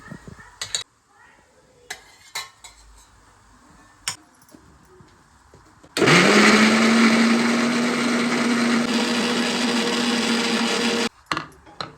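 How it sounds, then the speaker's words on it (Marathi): A kitchen blender grinds a cashew and onion paste, starting abruptly after some handling clicks and running loud and steady for about five seconds with a rising motor whine before cutting off. "तोपर्यंत आपण हे काजू आणि कांद्याची पेस्ट करून घेऊ"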